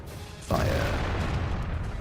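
A single tank cannon shot in World of Tanks: a sudden heavy boom after a brief quiet, followed by a sustained rumbling tail and ringing high whine that fades slowly.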